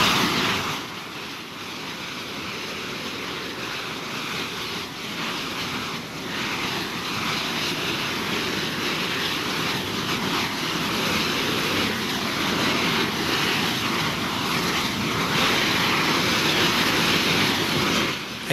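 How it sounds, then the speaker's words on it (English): An LPG tanker's pressure relief valve stays open and vents a tall column of flame, giving a steady, loud, continuous roar with a broad rushing texture. It runs unbroken and alone, with no voices. "the relief valve has opened and remains open for almost 3 minutes before closing"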